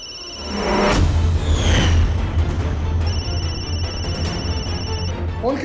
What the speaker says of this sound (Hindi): फोन किसका बजा?